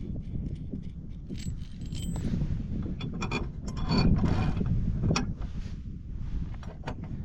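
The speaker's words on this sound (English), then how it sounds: "what I'm doing now is putting on my hinges for the actual gate itself" Metal hinges are fitted onto an entrance gate outdoors, with clinks and rattles of hardware and scraping handling noises over a steady wind-like rumble.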